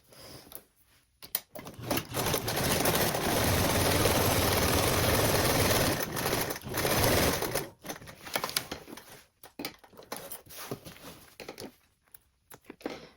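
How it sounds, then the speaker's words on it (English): A sewing machine bastes tote bag fabric with a one-eighth seam allowance, a fast steady whirring stitch run for about six seconds, then a brief second burst and scattered handling clicks. "we're going to baste this in place with a 1/8 seam allowance"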